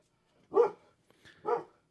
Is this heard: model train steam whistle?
no